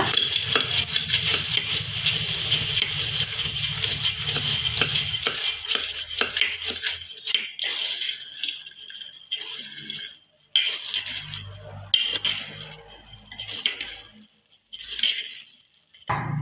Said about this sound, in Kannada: ತಿರುಗಿಸ್ಕೋಣ